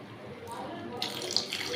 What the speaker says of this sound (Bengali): আমি এবার এখানে একটু বেশি করে জল দিয়ে দেব